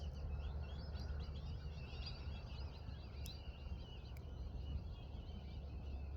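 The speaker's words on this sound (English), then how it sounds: "Maybe I'll stop the birds." Birds chirp and twitter outdoors in a steady, fairly faint chorus, layered over a constant low background rumble.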